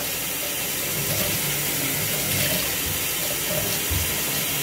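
Tap water runs in a steady, continuous hiss and splash while kangkong (water spinach) is washed, close by and fairly constant, with no talking.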